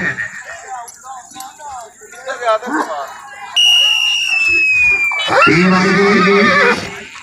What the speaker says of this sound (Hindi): चार घोड़े आ रहे हैं